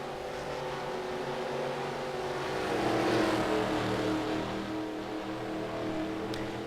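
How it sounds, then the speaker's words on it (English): Race cars circling the Michigan track during a 70-lap event, a dense steady engine drone from a pack of cars that swells briefly midway as they pass, heard at a distance with no voices. "all the cars who made pit stops are starting to catch up to the rear end of the field here"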